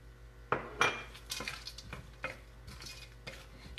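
Frozen peas tumble into a hot cooking pan with a couple of sharp clinks and rattles, followed by softer scraping, stirring and faint sizzling at close range.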